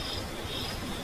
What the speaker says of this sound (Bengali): একটানা ঝিঝি পোকার ডাক